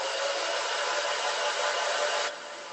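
Hair dryer blowing on a painting: a loud, steady, close airy roar that holds for over two seconds, then drops to a softer hum, with no talk.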